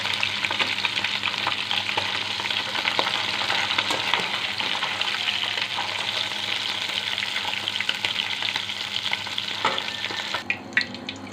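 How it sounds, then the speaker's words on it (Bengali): Cut potatoes sizzle loudly in hot oil left over from frying fish, a dense continuous crackle broken by stirring scrapes, close and with no talking. "এবার আমি এই তেলেই আগে থেকে কেটে রাখা আলুটা দিয়ে দিচ্ছি।"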